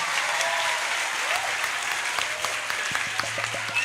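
Students of Pondok Pesantren Nahdlatul Ta'limiyah applauding during an evening religious study gathering, dense sustained clapping from many hands, fairly loud and even.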